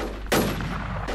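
A single loud sniper rifle shot in a first-person shooter game, one sharp broadband blast that rings out briefly over low background game ambience.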